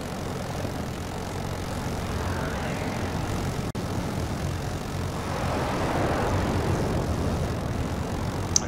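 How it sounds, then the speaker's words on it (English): A steady, loud roar of a helicopter in the video game Battlefield 2042, apparently an MI-240 Super Hind, runs without a break, with a broad rumbling engine and rotor wash that swells slightly toward the end, with no talking. "There's a heli here."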